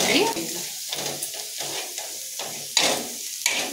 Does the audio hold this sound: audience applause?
no